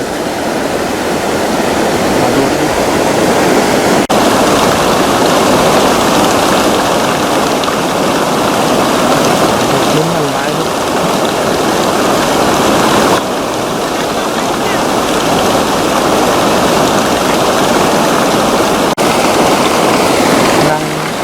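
Loud, steady rush of floodwater pouring over a weir in Thailand, a constant broadband roar that never lets up, with faint voices underneath.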